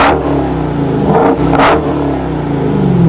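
A 2018 Dodge Challenger SRT Demon muscle car engine revs loudly up close, rumbling deep with sharp throttle blips swelling and falling in quick succession, no talking.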